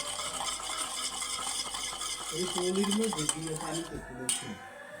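A mixture for Barishal-style egg morobba being stirred with a little water in a pan, with close spoon scrapes and clinks against the vessel over a soft background sizzle, no voices.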